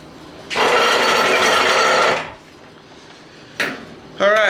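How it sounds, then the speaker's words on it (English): A workbench and vise are shifted across a workshop floor as a loud, broad scraping drag that lasts about two seconds. A short knock follows, and then a voice starts speaking. "we'll move the bench over and we'll pull in the vise"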